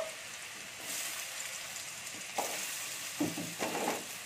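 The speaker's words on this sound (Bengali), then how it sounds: "আমি এবার আলুগুলো দিয়ে দিচ্ছি। আলুগুলোকে আমি একটু ভেজে নেব।" Cut potato pieces sizzle steadily in hot oil in a pan, a continuous low hiss with a few louder crackles and stirring clatters, no talking.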